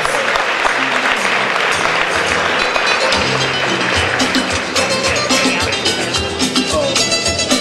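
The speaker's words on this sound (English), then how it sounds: "Please give him a round of applause." A crowd at an anniversary gala for Radio Soleil claps loudly and continuously, a dense, close wash of hand claps with faint murmuring mixed in throughout.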